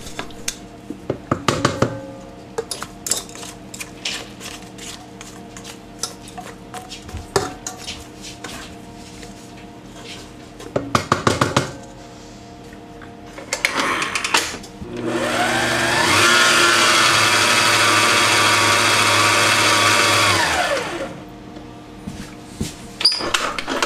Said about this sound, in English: Now we're going to add our reserved egg whites and whisk them into the yolk mixture on low for a count of